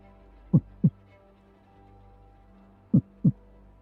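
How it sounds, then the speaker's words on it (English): A slow, steady heartbeat sound effect from within a stone in a tabletop fantasy role-playing game: two double thumps, low and close, separated by a long quiet pause. "steady heartbeat has begun within the stone"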